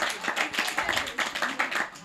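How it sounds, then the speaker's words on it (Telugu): Children clap at a New Year celebration at the Sankalp Foundation in Chandanagar, a close, dense burst of brisk, uneven applause-like claps running throughout. "ఒకసారి గట్టిగా క్లాప్స్ కొట్టుకున్నానా మీకోసం"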